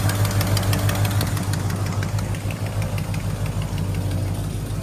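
An engine over 40 years old, fitted for nitrous, pulls hard in second gear, its loud steady drone and mechanical knock filling the whole stretch with a constant low rumble and no talk over it.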